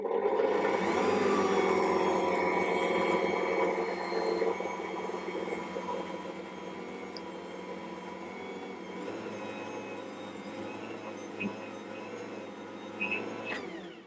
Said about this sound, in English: And I'll mix that until that becomes a shaggy dough.